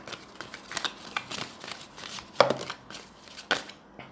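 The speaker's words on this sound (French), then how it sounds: "Oh, c'est une catastrophe à mélanger." Oracle cards being shuffled by hand, with quick riffling flicks and sharper snaps at irregular intervals, close and fairly quiet against a soft background.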